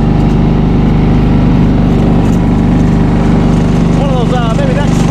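A snow blower engine drones loud and close throughout, running steadily in snowy conditions with a constant low roar, while someone talks over it.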